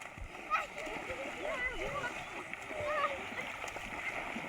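Small children splash and play while bathing in fresh monsoon floodwater, with light repeated splashes and watery gurgles under nearby chatter and calls.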